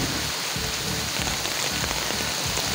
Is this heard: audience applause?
no